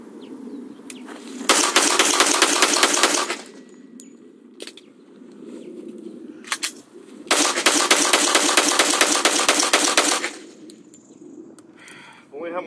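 Rapid machine-gun style gunfire sound effects in two loud sustained bursts of about two and three seconds, separated by quieter stretches with faint background noise and brief clanks.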